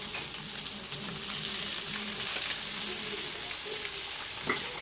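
Fish frying in oil after a mix of chilli, garlic and salt is added, a dense, steady sizzle close by, with faint stirring and scraping sounds throughout.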